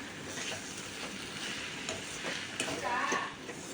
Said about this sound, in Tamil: இதை நம்ம நல்லா அடி ஒட்ட ஒரு தடவை கிளறி கொடுத்துடலாம்